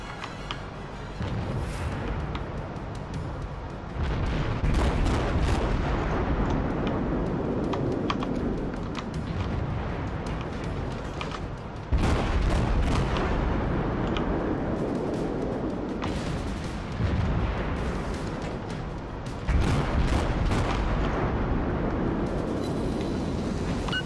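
Heavy warship guns firing in the video game World of Warships, several big booming salvos spaced a few seconds apart over a constant rumbling engine and sea bed, with occasional faint clicks.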